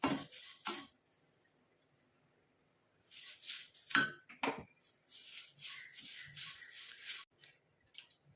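Mustard seeds roasting dry in a pan, giving rapid bursts of light crackling and ticking pops in clustered runs, fairly close, with a long silent gap between the first and later bursts; no talk.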